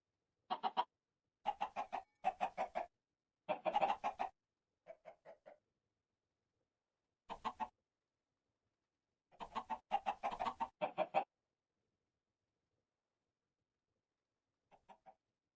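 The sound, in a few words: chickens clucking in Minecraft FTB StoneBlock 4 roost, video game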